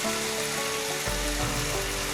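Cashews, potato pieces, turmeric and Malvani masala fry in a pan with a steady, close sizzle and a brief stirring scrape partway through, no talking.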